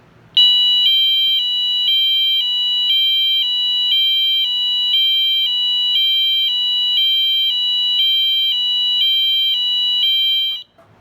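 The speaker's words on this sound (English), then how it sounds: "I think that one's probably a high-low or a siren." Multi-tone fire alarm blaring a loud, piercing electronic tone that alternates high and low in a steady repeating cycle for about ten seconds before stopping abruptly.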